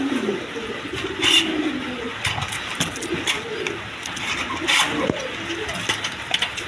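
Pigeons offered for sale, including a white pair, coo in soft repeated low calls over a steady background hiss, with faint engine noise and brief clatters nearby.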